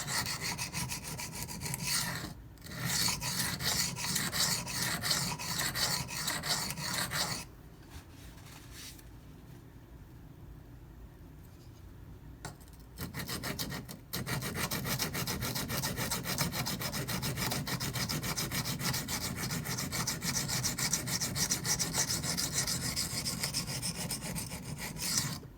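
A Benchmade 9400 knife blade is stroked across small, freshly flattened pocket sharpening stones, giving a steady, close, gritty rasping that pauses for a few seconds midway before resuming in a continuous rhythm.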